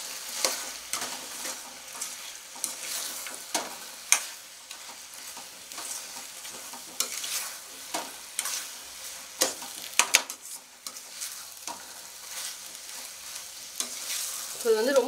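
Fried cauliflower being tossed and mixed into a cornflour sauce in a hot pan, a soft sizzle broken by repeated spatula scrapes and stirring knocks at an irregular pace, close up with no talking.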